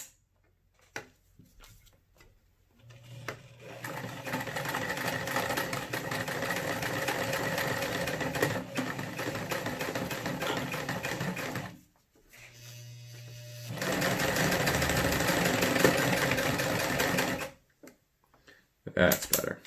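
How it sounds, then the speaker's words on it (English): A sewing machine stitches a T-hook onto a strap, running steadily in two long bursts separated by brief pauses, loud and close with a rapid mechanical chatter, with a person talking now and then. "So I'm going to sew that on first before we get going on the grooves here"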